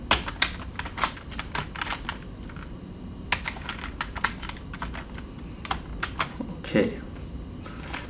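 Typing on a computer keyboard, rapid irregular key clicks in bursts with brief pauses, fairly close, with soft background noise throughout.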